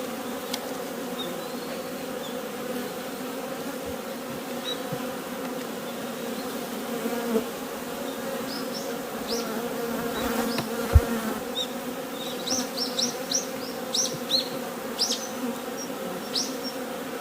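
Honeybees drone steadily inside a hive checked at the start of winter, a dense continuous buzz close up, with a few soft knocks and taps on the wooden box.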